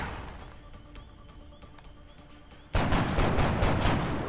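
Gunfire erupts in XCOM Long War, with a few sharp scattered shots at first, then a sudden loud burst of rapid automatic fire that stays dense and close to the end.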